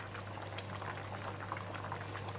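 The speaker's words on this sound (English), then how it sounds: "So the chicken is boiling." Chicken simmers in Thai panang curry with coconut milk, giving a steady, close bubbling and soft popping that carries on evenly under a low background hum, with no talking.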